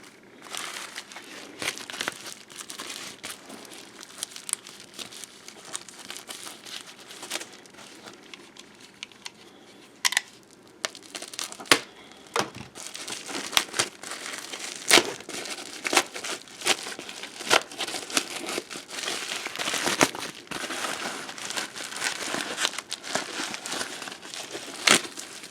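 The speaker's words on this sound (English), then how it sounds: "I don't want to ruin the little bag by tearing the tape off." Tape peeled and crinkled off a small plastic bag holding a seven-coin set of Indian princely state coins, a long run of close, fine crackling and rustling with sharper snaps, no talk.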